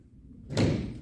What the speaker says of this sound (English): Who's at the door?